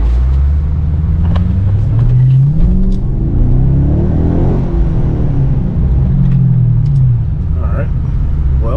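2014 Chevrolet Caprice PPV V8 with the mufflers cut off, a loud, deep exhaust rumble that rises and falls through a revving drive-by, with a voice talking faintly over it.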